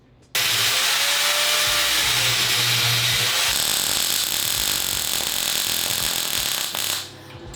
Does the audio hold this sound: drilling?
yes